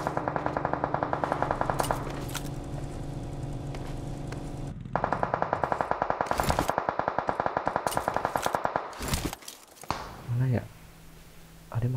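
Sniper and automatic gunfire in the battle-royale game PUBG Mobile: long runs of rapid, sharp repeated shots with a pause in the middle, then a few isolated cracks and a voice talking near the end.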